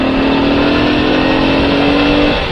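Large vehicles roar past on a highway, a loud, steady engine drone with a sustained hum that holds for a couple of seconds and then eases off, with no talking.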